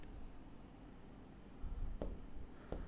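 Marker or chalk writing on a board during a maths lesson, soft scratchy strokes with a couple of sharp taps near the end, quiet and close.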